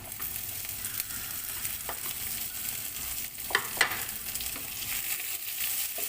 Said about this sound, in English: Now it is next we have to put our garlic. Just saute for 1 minute. Followed by tomato.